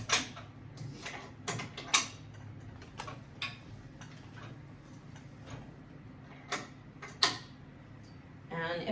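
A longarm quilting machine advancing the quilt, heard as a series of close mechanical clicks and ticks at uneven intervals over a low steady hum, with no talking.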